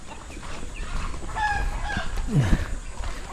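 Darag native chickens cluck nearby on a Philippine farm, giving a few short rising calls and a lower throaty cluck over faint background noise, with no one speaking.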